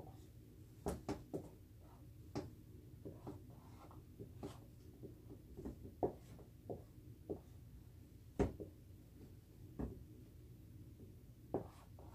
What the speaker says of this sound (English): now I'm going to write a bunch of them in the wrong order